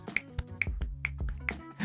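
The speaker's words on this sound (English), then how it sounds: "Finger snaps" A series of sharp finger snaps, about four or five, spaced irregularly over a steady low musical backing, fairly close and crisp.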